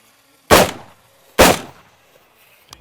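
Rifle shots fired during a SureFire X400 weaponlight test, two loud sharp reports about a second apart, then a fainter thump at the end, with no talking.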